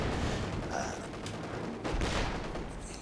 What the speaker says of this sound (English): More artillery coming in.